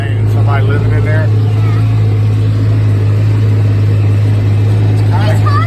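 A car driving on a cold day, a steady low engine and road rumble close inside the cabin, with people talking over it for much of the time.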